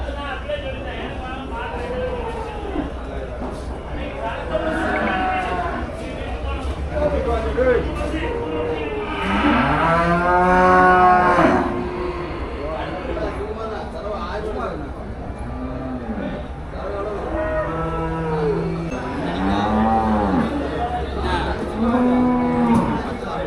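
Jersey cows and other cattle low and moo repeatedly at a busy cattle market, loud and near, with several overlapping calls under steady crowd chatter and people talking.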